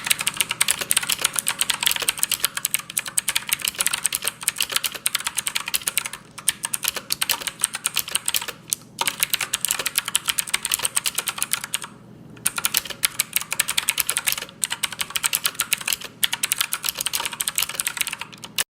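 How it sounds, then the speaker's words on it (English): Fast, continuous clacky typing on a Redragon VARA K551-RGB mechanical keyboard with Otemu Blue switches, loud and close, with sharp clicky keystrokes and only brief pauses. "Otemu Blue switches are something we see in a lot of these more budget end keyboards."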